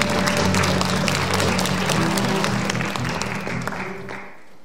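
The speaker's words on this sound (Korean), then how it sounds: "큰 박수로 환영해 주시기 바랍니다" An audience applauds to welcome a speaker to the stage at the opening ceremony of the 2022 No Gun Ri International Peace Forum, dense clapping that holds steady and then fades out near the end.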